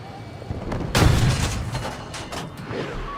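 Long-range artillery shells in the video game Battlefield 6 land as a heavy, booming impact with a rumbling tail, surrounded by scattered distant blasts and crackling gunfire in a busy battle mix.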